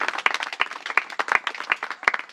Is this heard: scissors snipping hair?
no